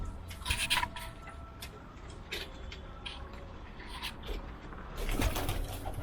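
A pigeon coos faintly in an outdoor hunting setting, a few soft low calls among rustling and background hiss, with brief louder rustles near the start and end.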